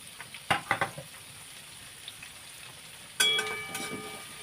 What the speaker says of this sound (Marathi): आता कांदा तेलामध्ये व्यवस्थित आपल्याला परतून घ्यायचे